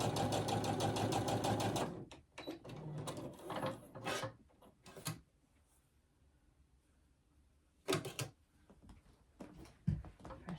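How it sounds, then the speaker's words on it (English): A sewing machine stitches a quilt block together, a loud rapid mechanical run for about two seconds, then scattered clicks, fabric handling and short bursts of stitching. "we're going to sew this together"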